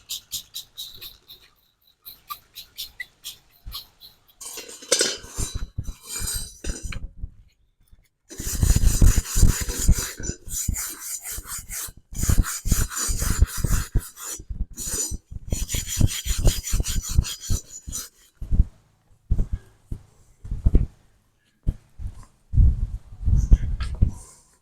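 A metal brush scrubs the cooking grates of a Weber Genesis E330 gas BBQ grill in fast, harsh back-and-forth strokes. The rasping comes in bursts separated by brief pauses, close up and loud, with a voice talking at times.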